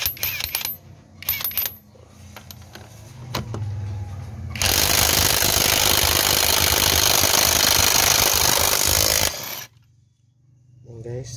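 A Chinese-version Makita DTW300 cordless impact wrench hammers on a bolt in one loud, continuous rattling burst of about five seconds, with talking before and after and a brief clatter near the end.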